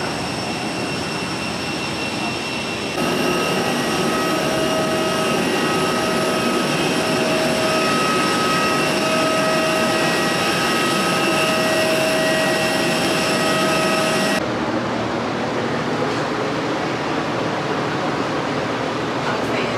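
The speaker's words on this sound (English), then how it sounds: "And one is about to take off" An airplane about to take off at a Turks and Caicos airport, heard as a loud steady jet engine roar with whining tonal hums, dropping off toward the end, from inside the terminal near a bar.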